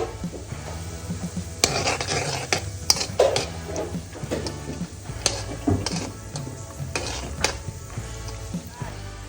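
Cashews, almonds and raisins frying in hot oil: continuous crackling sizzle with scattered pops and occasional spoon clinks, close up, no talking.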